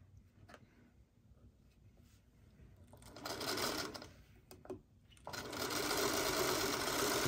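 Quilt block pieces for a Happy Trails block pass through a sewing machine in short bursts, a near, loud whirring stitching that stops and starts, then runs steadily at the end, with a little faint background sound between bursts.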